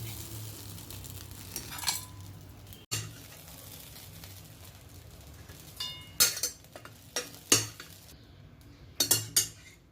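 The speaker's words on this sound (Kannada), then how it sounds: "ಇವಾಗ ಇದನ್ನು ಒಂದು ಪಾತ್ರೆಗೆ ಶಿಫ್ಟ್ ಮಾಡ್ತೀನಿ" A spoon scrapes and clinks against metal pans in a quiet kitchen, several irregular knocks and scrapes as cooked flattened rice (gojju avalakki) is moved from the pan into another vessel, with faint sizzling beneath.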